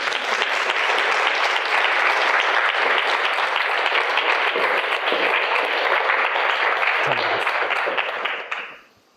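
Audience at a live talk breaks into sustained, dense applause, loud and even for several seconds before quickly fading out, with little talk over it.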